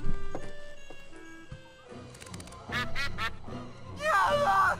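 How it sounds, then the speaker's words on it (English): A cartoonish duck quacks in the point-and-click adventure Escape from Monkey Island, thrown through a window to scare someone out: a few sharp nasal quacks, then a louder harsh burst of squawking near the end, over light game music. "I am going to try to scare him out by using the duck"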